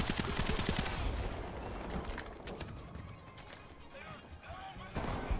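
Rapid bursts of machine-gun and rifle fire from soldiers in the War Thunder video game, dense and loud at first, then scattered shots continuing at a steady level to the end.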